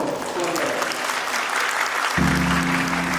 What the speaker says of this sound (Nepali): हामी ठुलो ताली बजाउनेछौँ